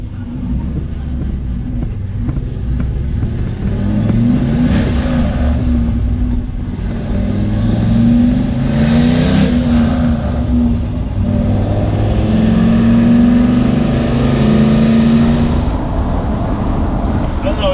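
A turbocharged LS-powered Chevrolet C10 truck engine runs on the road, a loud, steady drone with rising and falling rev swells and a brief lift in pitch midway.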